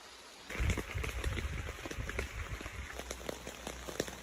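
Heavy rain at night at a primitive campsite: a dense, steady patter of drops hitting surfaces close by, starting abruptly and continuing without a break.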